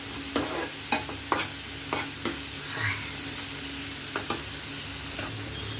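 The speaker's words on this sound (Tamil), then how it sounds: "வெங்காயம், தக்காளி, இஞ்சி பூண்டு இதெல்லாமே நல்லா வதங்கும் போது நல்ல ஒரு ஃப்ளேவர் கிடைக்குது" Onion, tomato, ginger and garlic sauté in a pan with a steady sizzle, broken by several sharp scrapes and clacks of stirring, close up and with no voices.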